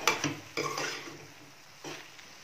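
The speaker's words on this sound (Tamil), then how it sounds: "மஞ்சள் தூள் சேர்த்ததுக்கப்புறம் நல்லா மிக்ஸ் பண்ணி விட்டுடுங்க." A spoon scrapes and clinks against a pan while stirring brinjal with turmeric powder, giving a few brief, quiet strokes with pauses between them.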